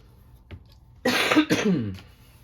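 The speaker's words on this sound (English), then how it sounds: "if I don't get over this cough, I'm going to lose my mind" A short throat sound followed by a harsh burst of two or three coughs, close and fairly loud, with no talking.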